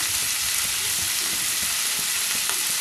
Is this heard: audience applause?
no